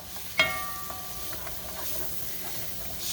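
Carrots and vegetables are stirred in a pot for broccoli cheddar soup. A sharp spoon clack opens a soft, continuous sizzle and scrape of stirring.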